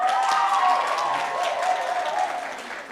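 An audience at a university campus student council inauguration ceremony claps in a steady burst that gradually fades, with a faint tonal hum running beneath the applause.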